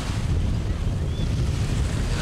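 Strong wind at Jetties Beach on Nantucket buffets the microphone with a steady, loud rumbling roar that sounds like surf.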